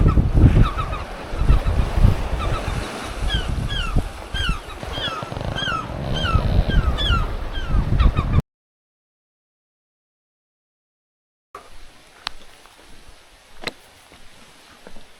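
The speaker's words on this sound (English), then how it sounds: "This bird is really making some noise about something." A wild bird on South Manitou Island honks loudly and repeatedly in goose-like calls, close and insistent, over a drizzly outdoor background of surf or wind; the sound cuts out midway, then resumes with faint ambient noise.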